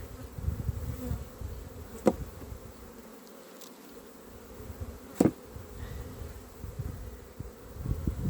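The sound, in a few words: honey bees buzzing in a nuc hive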